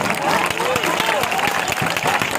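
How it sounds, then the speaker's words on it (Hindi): Crowd clapping at a political rally in Bihar, a ragged patter of many hands beneath a loud voice speaking through amplification. "ताली ना बजो, ताली ना बजो।"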